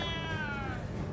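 A cat gives one drawn-out, close meow that sweeps slowly downward and fades, lasting about a second.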